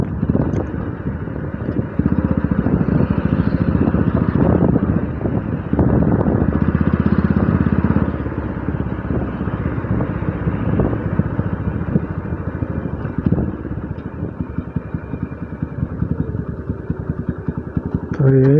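A motorcycle idles and revs near a beach in Goa, its engine a steady close rumble with occasional throttle surges, while someone talks over it.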